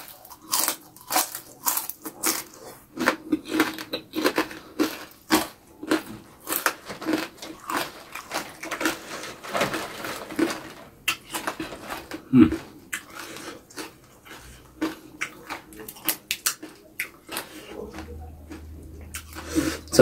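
Someone eats raw Indonesian vegetables, lalapan with young jengkol, kangkung and gori, in a mukbang, producing close, loud bites and crunches in an irregular rhythm with wet chewing between them.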